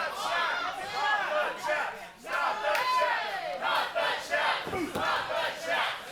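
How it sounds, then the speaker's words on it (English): A wrestling crowd roars and chants steadily during a tag-team match, a dense, loud wall of voices with rising surges throughout. "Listen to this crowd"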